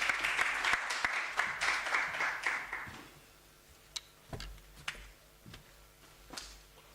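Audience applause at a research and innovation week event. Brisk, dense clapping runs for about three seconds and then stops, followed by a few scattered taps and knocks.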